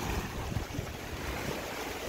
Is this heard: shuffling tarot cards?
no